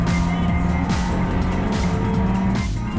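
A race car at Silverstone roars continuously along the Wellington Straight during a sprint race, engine note loud and steady with gear-shift dips, another car audible nearby, no talk.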